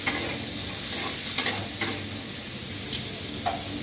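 Green chilies fry with red spinach in a pan, giving a loud, continuous close-up sizzle and hiss, with a few light stirring scrapes; no talking.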